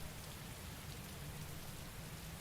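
Steady rain falling on a surface, a soft continuous hiss of drops with no thunder or voices, quiet and even throughout.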